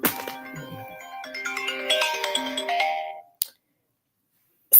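A phone rings late at night with a bright, melodic ringtone of layered tones for about three seconds, then stops abruptly, followed by a brief click and a later burst of noise.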